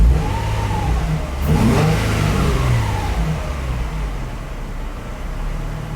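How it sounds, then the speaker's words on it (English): Car engine revving in a few blips, rising and falling sharply from an idle, loud and close, with no talk over it. "I'm actually gonna get a couple revs."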